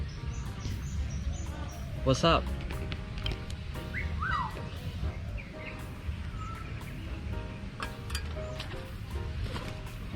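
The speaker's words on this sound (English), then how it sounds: "You guys seen the myna birds here?" Myna birds at a bird park in Bali give short chirps, whistles and squawky calls amid steady background noise, with someone speaking briefly to them nearby.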